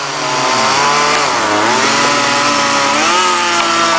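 An electric log splitter runs at an outdoor wood festival with a loud, steady motor drone whose pitch drifts up and down as it works, close by with no speech.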